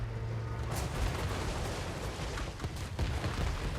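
Dense, continuous battlefield gunfire from massed troops in Total War: Warhammer 3, a rolling roar of volleys and booms with sharper cracks near the one-second mark and again toward the end, no voices.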